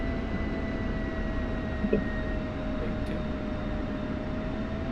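Steady jet engine whine and rumble from an F-16 Viper taxiing on an airfield in DCS, constant and moderately loud with a sustained tone and no voices.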